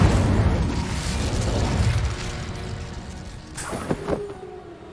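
In Hogwarts Legacy on PS5, the Incendio fire spell bursts out as a loud whooshing roar of flame that fades over a few seconds. A few sharp mechanical clicks and pops come near the end.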